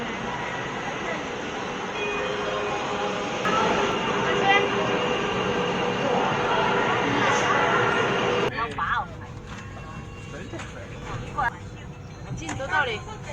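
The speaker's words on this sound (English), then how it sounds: "High-speed train is coming." A high-speed Hexie train pulls into a station in Ganzhou, a broad rumbling roar that holds steady for several seconds and then drops away abruptly, leaving quieter station ambience with scattered knocks and chatter.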